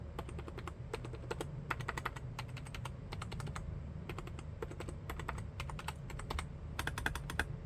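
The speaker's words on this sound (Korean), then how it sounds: "멤브레인이 사실은 기계식보다 조용하다는 얘기가 있긴 하지만 이것도 결국은 플라스틱으로 된 거라 플라스틱끼리 마찰되는 소리가 들리거든요" Steady typing on a membrane keyboard, plastic keys clacking in quick irregular bursts, close up, with no talking.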